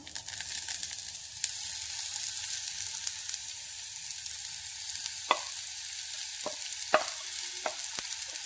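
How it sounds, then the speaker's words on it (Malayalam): Chopped taro leaves frying in a pan with onion and chilli while being stirred: a steady soft sizzle throughout, with several sharp scrapes and clinks of the spoon against the pan toward the end. "ചേമ്പിൻ താളിട്ട് നമുക്കിതൊന്ന് ഇളക്കി കൊടുക്കാം"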